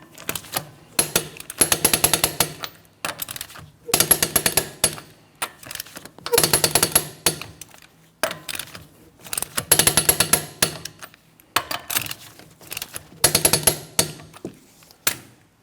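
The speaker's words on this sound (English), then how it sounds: "I'm going to be torquing each one of my lug nuts to that 100 foot-pounds in a crisscross manner" A torque wrench tightens the lug nuts on a 2004-2008 Pontiac Grand Prix in a crisscross pattern, heard as six or so bursts of rapid ratcheting clicks separated by short pauses, close and fairly loud.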